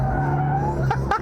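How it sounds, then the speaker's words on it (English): Tires of a 2022 Subaru BRZ Limited with sticky tires skidding as the sports car slides out, a loud sustained squeal over engine drone, ending in two short bursts. "I went a little too hard there and it slid out more than I'd like"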